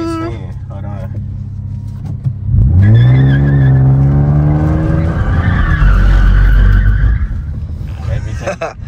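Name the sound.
car doing a donut, tires skidding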